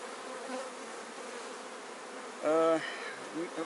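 Honeybees hum steadily around an open beehive with a queen-excluder grid between boxes, a dense close drone with one louder insect passing briefly near the middle.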